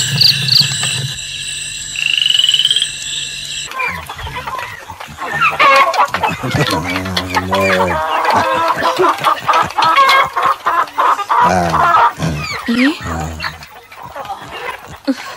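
Chickens clucking and fowl calling in a village setting, with frog-like croaks and a dog mixed in, loud and close, partly under people talking.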